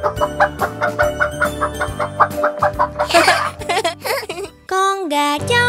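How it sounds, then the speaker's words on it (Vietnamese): A toy robot rooster crows in a bright, synthetic electronic voice, with a rhythmic mechanical pulse and repeated clucks before a long sustained crow near the end. "Gà trống gáy o o o, gà trống gáy o o o."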